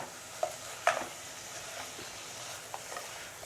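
Tomatoes sautéing over high flame for a prawn mustard curry make a soft, steady sizzle, with a few sharp stirring clicks and scrapes from a utensil against the pan.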